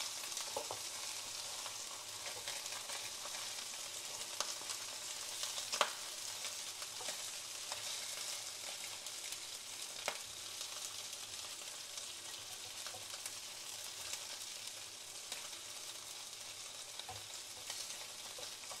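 Fish heads frying golden in oil in a pan for tofu fish head soup, a continuous close sizzle with scattered crackles and pops, steady and unbroken with no talk.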